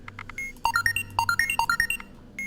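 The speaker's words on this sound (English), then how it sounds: "Sometimes that little tiny sound is the sound the button makes." A string of short, bright electronic blips and chimes from a button in the game Keep Talking and Nobody Explodes, in quick succession, clean and close, with a few softer beeps at the start and end.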